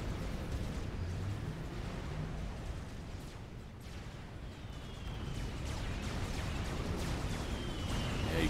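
Rumbling bombing-run explosions in the real-time strategy game Supreme Commander, a dense, continuous low roar of overlapping blasts and booms that swells and dips across the whole stretch, with no talk.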